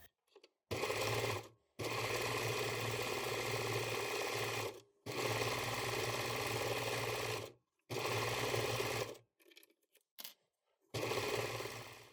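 Sewing machine stitching a knit sweater seam, running in several long steady bursts of motor hum with short pauses between, close and loud, no voices.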